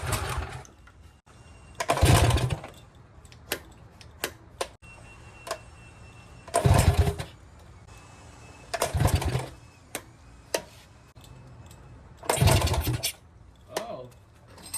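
A restored Mini's small engine cranks and catches in repeated loud bursts, sputtering and running unevenly between quieter ticking pauses, with several starts and revs close to the microphone.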